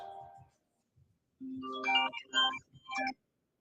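A phone ringtone plays during a business call, a short melodic jingle of tonal notes that repeats in bursts after a brief quiet gap, fairly close and clear.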